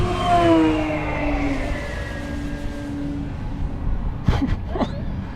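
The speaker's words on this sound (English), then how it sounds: "Full throttle, we're gonna go vertical with it." An FMS F7F Tigercat RC model plane with 550KV electric motors roars at full throttle as it climbs vertically, a steady high whine that slowly falls in pitch as it pulls away, with brief nearby sounds near the end.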